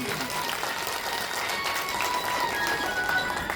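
Applause from a devotional gathering at a Bhagavat Katha festival, a sustained wash of dense clapping with steady crowd noise throughout.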